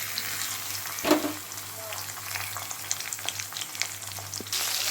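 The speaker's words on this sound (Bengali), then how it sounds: "চিংড়ি মাছগুলো ভালো করে কেটে ধুয়ে নুন হলুদ মাখিয়ে রেখেছি, এইবার ফোড়নের ওপরেই দিয়ে দেবো।" Prawns frying in mustard oil with dry chilli and panch phoron, a steady close sizzle with small crackles and a brief stirring clatter.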